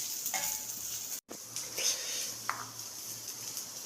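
Grated coconut roasts in a pan and is stirred, giving a soft continuous sizzle with scraping strokes and a few light utensil knocks, steady throughout.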